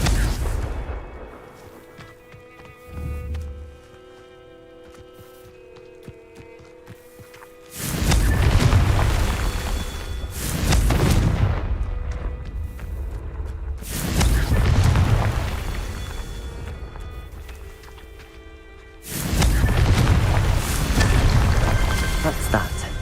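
Repeated booming explosions from the Confringo spell in the video game Hogwarts Legacy, several loud blasts with long rumbling tails separated by quieter gaps, alongside spoken voices.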